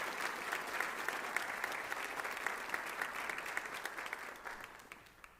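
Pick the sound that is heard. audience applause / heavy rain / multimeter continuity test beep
audience applause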